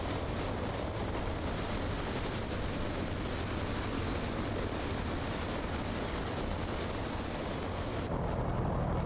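A Grumman F4F-4 Wildcat taxis at a fly-in, its engine a loud, continuous broadband roar close by that holds steady throughout, with no talk over it.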